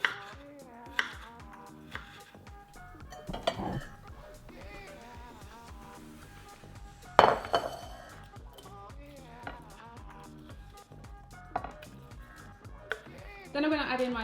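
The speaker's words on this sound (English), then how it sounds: "And also going to cut up some tomatoes." Tomatoes being cut with a knife on a board in a home kitchen, sounding as scattered soft taps and clicks with a louder clatter midway, close and fairly quiet, over faint background sound.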